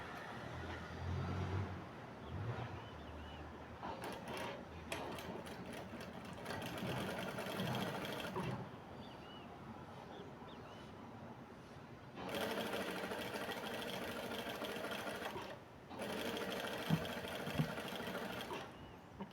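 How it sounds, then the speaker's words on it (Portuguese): A sewing machine stitches knit fabric strips onto a base for a soft rug, running in long continuous bursts with brief pauses between them, close and fairly loud, with no talking. "Só vou costurar desse lado e virar pro outro."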